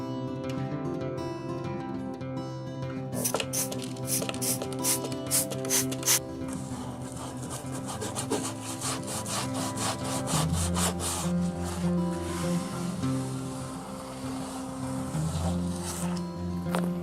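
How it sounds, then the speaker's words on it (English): Driver's side car floor insulation is cut up close with a steady rasping, sawing scrape, and sharp strokes repeat in quick bursts over a continuous background hum. "I got to work cutting the lower part of the driver's side insulation."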